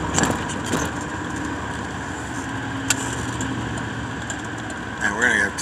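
A work truck's engine idles with a steady, low, close hum, while keys jangle and a voice talks faintly.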